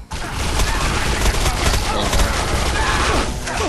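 Rapid bursts of gunfire from the player's weapon in the shooter Defiance, loud and dense for a few seconds amid game effects.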